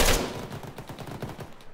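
Enemy gunfire in an Arma city battle, a loud burst at the start followed by a rapid string of shots that crackle on at a steady rhythm.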